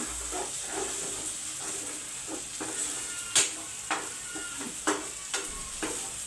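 Mutton curry with chili powder added sizzles steadily in the pot while a spoon stirs it, giving a string of scraping knocks and clinks over the continuous frying hiss, close and clear, with no talking.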